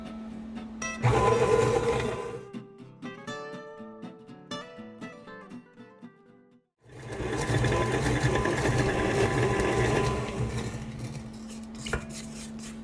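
Electric hand mixer beating eggs into creamy cake batter for a sticky toffee pudding, a steady loud whirring motor with tonal buzz, pausing briefly around the middle before resuming steadily to the end.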